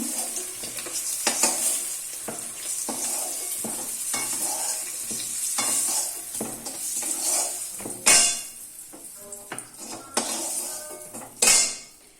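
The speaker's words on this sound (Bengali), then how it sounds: "ডিমগুলো লাল লাল লাল করে ভাজা হয়ে গেছে দেখতে পাচ্ছি" Eggs frying in a pan while a spatula stirs and scrapes them, giving repeated metallic scrapes and clinks over a continuous sizzle, with two sharper knocks against the pan near the end.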